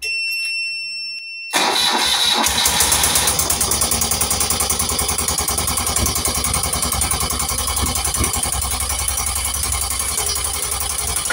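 After one year of restoration, an old single-cylinder-firing engine is started with the choke engaged. A brief starter whir gives way to a loud, rough, continuous running clatter that persists close by.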